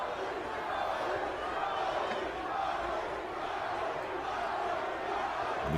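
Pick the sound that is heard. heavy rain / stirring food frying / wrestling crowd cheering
wrestling crowd cheering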